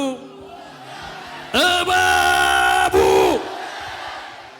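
Church congregation shouting together in one loud sustained collective cry, rising abruptly, holding for nearly two seconds, then trailing off, with a preacher's voice before it.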